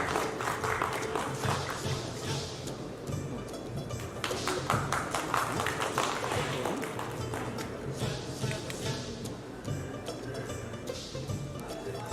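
Audience applause welcomes poet Navaraj Parajuli onto the stage at a live show, a dense, sustained roar of clapping that fills the whole stretch at steady loudness.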